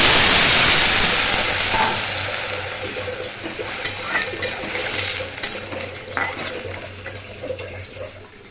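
Water gushes into a hot pan of fried poppy seeds with a loud hissing splash that fades into softer sizzling and bubbling, with occasional stirring clicks.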